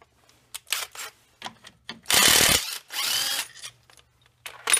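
An impact wrench with a 5/8 socket takes off a deck pulley on a Kohler 20 HP V-twin vertical shaft engine. It gives several short, loud bursts of rattling hammering, the longest lasting about half a second, with tool clatter between them.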